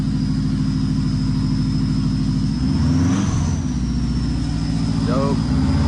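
A car engine idles with a steady low rumble, briefly rising in a small rev midway, with a faint high whine and a short voice in the background.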